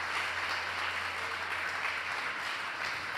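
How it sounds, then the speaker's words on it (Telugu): A church congregation claps together during a worship service, producing a steady, dense wash of applause that carries through the whole stretch without a break. "కాబట్టి చప్పట్లు కూడా దేవుని నామమున మహిమపరచుకుంటాం."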